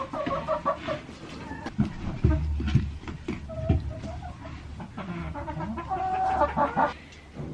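A broody hen and other chickens cluck steadily and close by. The clucking overlaps with shuffling and some handling noises in a coop setting.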